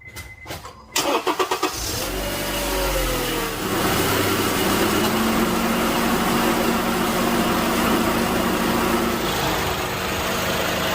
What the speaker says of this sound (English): we're gonna go start the engine